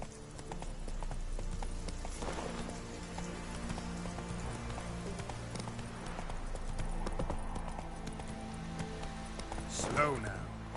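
Roach, the horse in The Witcher video game, clip-clops along in a steady hoofbeat rhythm under rain and ambient game sound, fairly faint, with a voice speaking over it at moments.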